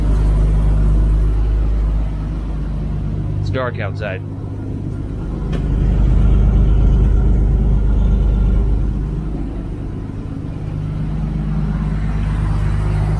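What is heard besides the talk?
Toyota Land Cruiser engine rumble with modified exhaust, cat removed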